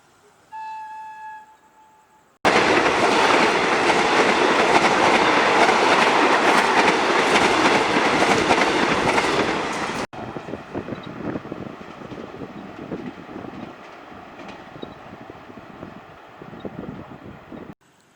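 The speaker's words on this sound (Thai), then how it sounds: "ขบวนรถไฟนำเที่ยวเขื่อนป่าสักก็ผ่านไปอย่างเรียบร้อยแล้วนะครับ" A tour train to the Pa Sak dam passes close by Khlong Phutsa railway station at dusk, a loud sustained rumble with rhythmic clatter that drops off abruptly, then softer rail noise and wind.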